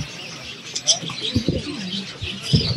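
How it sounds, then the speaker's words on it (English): Pigeons coo and small birds chirp in the bird section of a busy Kabul bazaar, short calls close by over steady crowd murmur and footsteps, with voices talking nearby. "So we're right now walking through a section of the bazaar where it's only birds."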